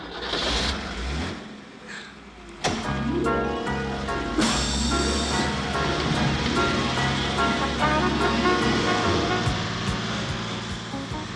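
A car engine revs and accelerates as the vehicle drives through curves on Roman streets, the steady roar rising in pitch with gear changes, joined by music.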